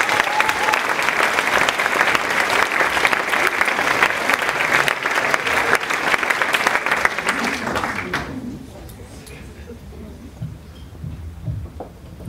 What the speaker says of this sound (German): einen Applaus bitte für Felix Lobrecht.